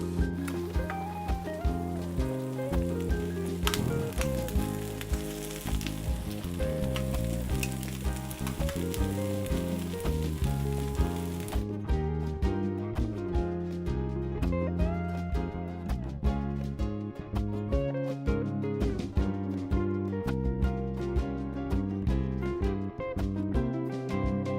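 Garlic tapas fry spread out in a pan, a constant soft sizzling hiss that sits beneath loud, continuous music for the whole stretch.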